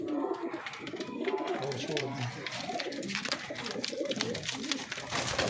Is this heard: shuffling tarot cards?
no